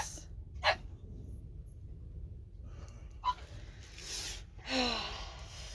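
Indoor dogs barking in short, sharp bursts, a couple of separate yips spaced out over a quiet room, moderately close and fairly faint.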